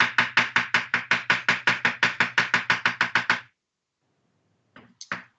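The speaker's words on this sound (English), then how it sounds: "So now we're going to cut it very small." Aloe vera being minced into very small pieces with a knife for homemade hand sanitizer: a fast, steady run of about twenty close, crisp chops, then a pause and two or three lighter taps.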